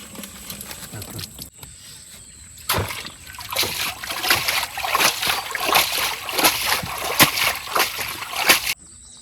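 A fishing net is washed in a Sundarbans river at night. Water splashes and sloshes in a rapid series of bursts as the net is dunked and swished, after a quieter start with low talk.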